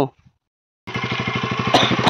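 A KTM Duke 390 motorcycle engine kicks in after a short silence, a loud close pulsing putter with rapid regular firing beats and a rising rev near the end.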